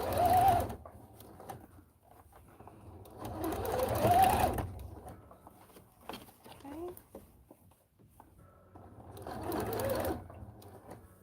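A sewing machine edge stitches a curved section near the lining of a homemade Belle princess costume, running in three separate bursts of whirring stitching with quieter pauses between them.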